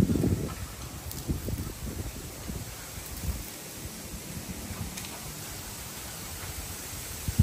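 Strong wind rushes steadily through bamboo near the Pundaquit shore in Zambales, with a broad hiss and rustling, gusting louder near the start and buffeting the microphone.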